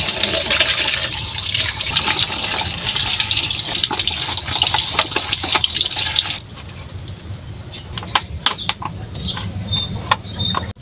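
Running water splashes steadily over a dirty plant pot being rinsed clean, a dense continuous gush that thins out partway through into softer trickles and drips.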